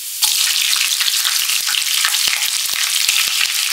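Three finely chopped green chillies sizzle loudly in hot frying oil with ginger for rava kichadi, a steady close crackling hiss with scattered pops and no talking.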